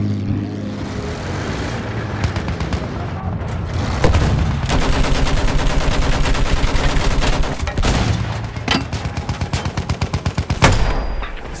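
Battlefield 1 gameplay, with bursts of rapid machine-gun fire in rolling volleys over a droning aircraft engine, loud and close and with brief gaps between strings of shots.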